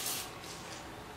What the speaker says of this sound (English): I use my spray bottle to wet my beauty blenders when I don't feel like getting up